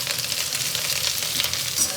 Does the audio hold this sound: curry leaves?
yes